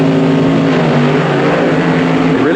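1965 drag racing cars launch off the line with a loud, continuous engine roar that stays steady and dense throughout, close up, with the revving pitch rising slightly toward the end.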